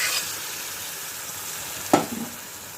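Boiled ivy gourd tipped into a pan of golden sautéed onions: a low, steady sizzle, then one sharp knock and a brief stirring scrape near the end.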